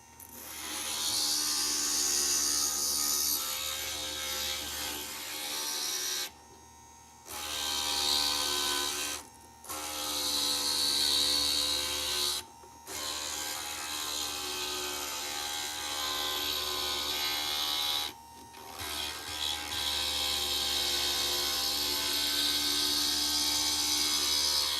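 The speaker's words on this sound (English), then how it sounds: "we are done with the grinding" A grinder shapes stained glass pieces, making a loud, continuous whirring grind that stops briefly several times as each piece is lifted away and then restarts.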